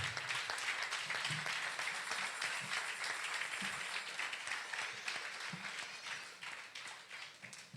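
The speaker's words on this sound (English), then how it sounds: "Clap your hands for the Lord." A church congregation claps their hands during a prayer service, producing a fairly quiet, steady patter of many hands that carries on for several seconds and fades slightly toward the end.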